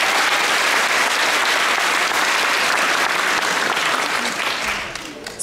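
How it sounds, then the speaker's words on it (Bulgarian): Dense, loud applause fills a school concert hall celebrating the national Day of the Enlighteners, steady throughout and thinning slightly toward the end. "Аплодисменти още веднъж за нея!"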